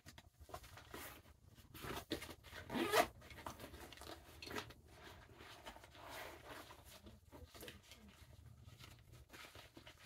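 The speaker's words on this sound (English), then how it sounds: "the zippers are just stiff because of disuse and a bit of use to the bag" Stiff zippers on a Rush 24 bag are pulled open and shut several times: a run of close, raspy zips, with irregular pauses and small handling rustles between them.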